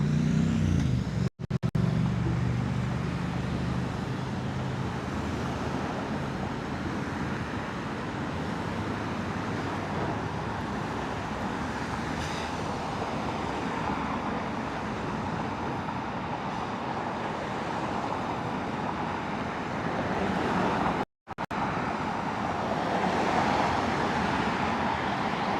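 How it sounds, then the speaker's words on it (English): Manhattan road traffic gets moving, and a dense, loud wash of car engines and tire noise builds and holds steady. There are two brief dropouts and no talking. "now listen to how quiet it's going to get, or how loud it's going to get once traffic starts moving"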